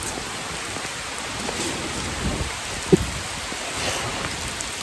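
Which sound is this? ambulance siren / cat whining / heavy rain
heavy rain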